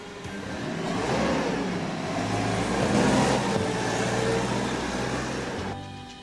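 A forklift engine starts and revs up, a mid-pitched motor swelling into a sustained loud drone, then easing back near the end.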